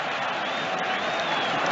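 Home supporters at the Etihad, Manchester City's ground, rise to applaud hat-trick hero Erling Haaland during a Premier League match against Wolves, a dense, steady roar of clapping and crowd noise filling the stadium throughout.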